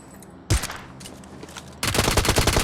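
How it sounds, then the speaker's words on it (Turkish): Gunfire in the video game PUBG Mobile: a sharp burst of shots breaks out, fades into a short lull, then a dense rapid-fire volley rattles loudly to the end. "kime sıkıyorsun?"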